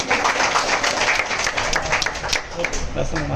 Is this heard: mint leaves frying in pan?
no